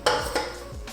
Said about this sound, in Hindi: और इसके अंदर ये मैं चिकन डाल दूँगी।